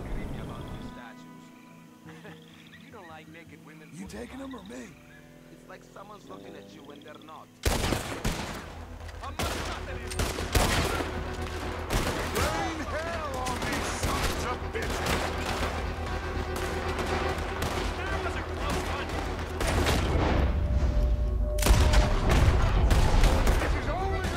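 Gunfire in the video game Red Dead Redemption 2, a mission taking down Angelo Bronte: a quiet opening gives way to dense, continuous volleys of shots and bursts that grow louder toward the end, with a voice talking over parts of it.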